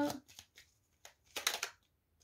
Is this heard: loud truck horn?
no